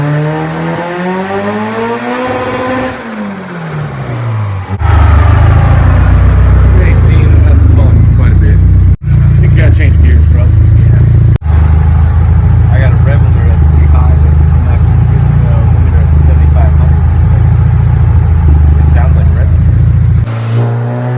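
A Honda S2000 fitted with a Rotrex supercharger runs loud and close, engine note rising and settling into a steady, throbbing idle with a few sharp clicks, while a voice talks over it.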